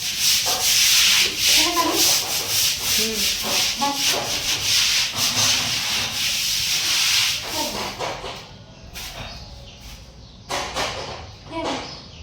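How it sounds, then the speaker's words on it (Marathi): Bathroom floor scrubbed clean with a brush, rhythmic loud rasping strokes close up, easing into quieter, sparser scrubs near the end. "बाथरूम आधी कळाकळा छान घासून घेते धुवून घेते"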